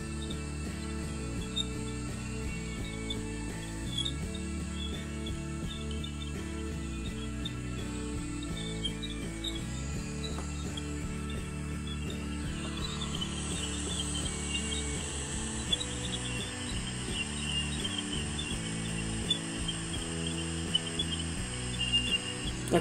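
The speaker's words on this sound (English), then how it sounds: "Sounds like crickets." Crickets at night give a faint, continuous high chirring that grows clearer partway through, set against a low tonal hum.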